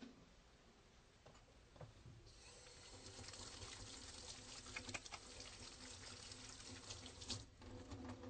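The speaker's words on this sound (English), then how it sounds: "let me go ahead and wash my hands since the examination's over" Running water from a sink tap as hands are washed after a medical examination, a steady moderate gush with splashing that builds after the first couple of seconds and continues throughout.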